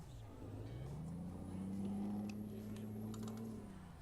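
A Freightliner Classic XL truck in Euro Truck Simulator 2 labors to pull away, its diesel engine droning loud and steady as the pitch slowly rises and holds, with no talk over it.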